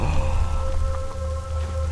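Steady rain falls in the video game Eleusis, a continuous soft patter over a low ambient hum with a faint sustained tone, no voices.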